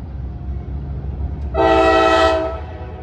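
A Norfolk Southern locomotive in Hamilton sounds its horn in a salute: a loud, bright chord bursts in midway over low rumbling train noise and holds for about a second before fading.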